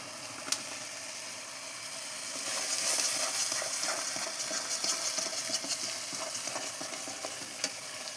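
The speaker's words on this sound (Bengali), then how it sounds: "মশলাটা ভালোভাবে কষিয়ে নেব" Spice masala sautéing in a pan for dudh potol with cashew paste, turmeric and salt, a steady soft sizzle with occasional scraping stirs and clinks of a spoon against the pan.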